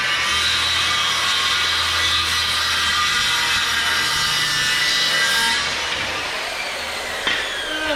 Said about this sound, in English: Let's cut just a little bit more off of it.